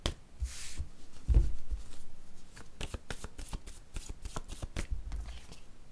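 Close, quiet riffling and snapping of word cards being shuffled and drawn from a deck during a card reading, a quick run of crisp flicks and taps with no voices.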